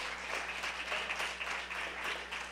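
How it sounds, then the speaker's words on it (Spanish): Church congregation clapping during a service, a soft, fairly faint patter of many hands that stays steady and even over a low hum, with no voices on top. "Dame un aplauso al Señor que responde la oración"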